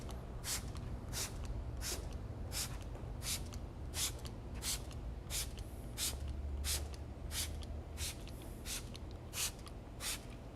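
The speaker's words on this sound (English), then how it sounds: "all you're really doing is just spraying it on there" A series of short, quiet bursts of fabric protectant sprayed onto a car seat repeat at a steady pace, roughly a dozen in all, over a low background hum.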